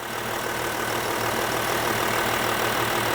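Audi Q7 TDI diesel engine idling in park, a steady low rumble with a faint rhythmic knock, close and continuous.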